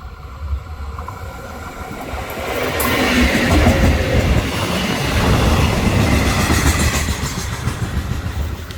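Thai train 556, a short three-car consist, approaching and passing: a rising rumble swells into loud, steady wheel and rail noise with rhythmic clatter, continuing strongly to the end.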